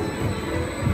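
Onboard a dark ride, a maglev commuter train effect plays as a steady, fairly quiet rumbling whoosh with a faint high hum, with no voices.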